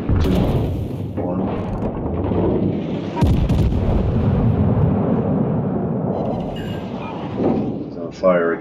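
Battleship main guns fire in the World of Warships Legends naval game, heavy booming blasts with mechanical clanks over game sounds while someone talks.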